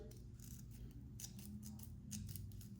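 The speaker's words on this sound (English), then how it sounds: "just take our scissors and just kind of trim out our template" Scissors snip repeatedly through a paper template in quick, quiet cuts, close by, over a low steady background hum.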